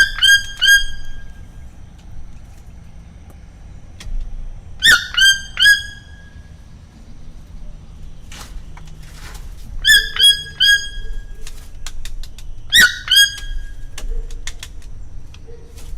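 A toucan outdoors calls in bursts of harsh, stacked squawks near 0–1 s, 5–6 s, 10–11 s and 13 s, answering another bird, over low background rumble and scattered fainter chirps.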